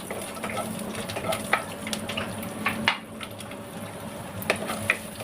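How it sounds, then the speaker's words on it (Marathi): Garlic, ginger, coconut and onion roast in oil for a Mangalore chicken curry, with a close, steady sizzle and intermittent clicks and scrapes of stirring. "त्याच तेलामध्ये लसूण आलं खोबरं आणि कांदा भाजून घ्यायचा"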